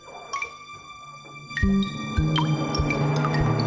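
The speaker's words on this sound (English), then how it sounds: "all the water starts sloshing over the side of the bath and dripping through the ceiling to the sitting room" Bath water slops over the side of a tub and drips through a ceiling into the room below, with soft wet squishing and a few distinct drips that give way to heavier, steadier splashing and trickling partway through.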